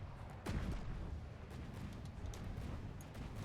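Naval ship shells fire in a battle video game, one heavy boom near the start followed by a dense rumbling wash of distant explosions and gunfire.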